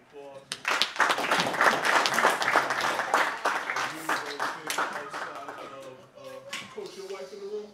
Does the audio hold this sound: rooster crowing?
no